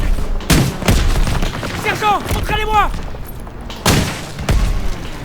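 WWII video game battle near Marigny with loud gunfire bursts and heavy booms of explosions, scattered through the clip while a voice gives orders over the din.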